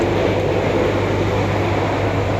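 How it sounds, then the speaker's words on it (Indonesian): KA Bias passenger train slowing to stop at Gawok station, a steady loud low rumble with a constant hum throughout, no voices. "Sesaat lagi kereta api Bias berhenti di stasiun Gawok untuk persusulan ya guys ya"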